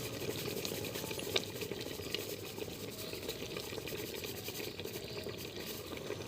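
Jujube plums simmering in sugar syrup for a sweet-sour pickle, giving a steady low bubbling and faint liquid churning throughout, moderately quiet with no voices.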